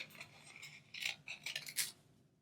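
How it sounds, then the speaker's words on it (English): Scissors snip through paper while a Halloween cupcake embellishment is trimmed for a craft, giving a few quiet, crisp cuts spaced about half a second apart, close by and alone. "I'm going to cut here."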